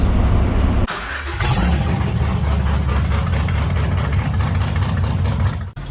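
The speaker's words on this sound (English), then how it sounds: "Just driving a school bus. Buying a school bus. Yeah. It's got a Duramax." School bus with a Duramax diesel engine running close by, a loud steady low rumble with a brief dip and surge near the start, continuous throughout.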